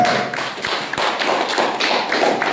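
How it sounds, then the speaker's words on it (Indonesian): A class audience claps after a student presentation, producing a loud, continuous patter of hand claps with a few stronger thumps scattered through it, and no talking. "Tepuk tangan untuk Mas Ilyas"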